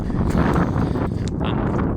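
Steady broadband wind rumble buffeting the microphone throughout, loud and continuous with gusty swells, on the old runway of RAF Woodhall Spa.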